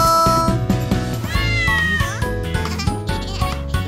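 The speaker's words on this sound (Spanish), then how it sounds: "conozcan a mi amigo, mi adorable gato Boo" A pet cat meows loudly and repeatedly in a children's song setting, a string of bright, drawn-out cries over steady musical accompaniment.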